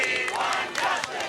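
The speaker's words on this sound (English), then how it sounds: "A crowd of supporters chanting, "We want justice," greeted the Miami family" A dense crowd of supporters chants and shouts together in a steady, loud roar with rhythmic vocal bursts, close and continuous throughout.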